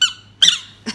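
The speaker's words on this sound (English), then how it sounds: "Assuming he walks and squeaks and barks." Three short, bright squeaks from a broken Walk N Talk toy dog, spaced across under a second, close and fairly loud with silence between them.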